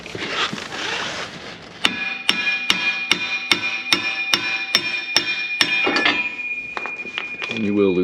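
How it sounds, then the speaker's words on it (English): Sharp hammer blows ring out on the rear brake rotor of a 2017 Ford Transit, about a dozen evenly spaced metallic strikes with a lingering ring, following some earlier shuffling and talk. "Let me grab a hammer."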